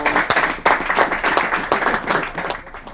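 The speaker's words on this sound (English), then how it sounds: "let's give him a round of applause." A small crowd at a football club gathering gives a round of applause, close and lively with distinct individual claps in an uneven rhythm, continuing for a few seconds.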